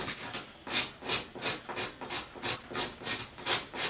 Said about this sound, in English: Now I can take the scraper and just concentrate just on top of that maple.